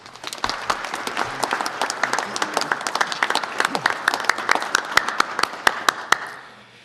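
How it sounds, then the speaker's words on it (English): Sustained applause from an audience at a press conference, dense overlapping claps at steady strength that thin out and fade near the end. "I think we all should be giving all of them a round of applause"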